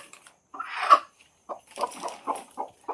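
Hens at a household coop give short clucks: a loud rough burst near the start, then a quick run of close, choppy clucks, with no talking.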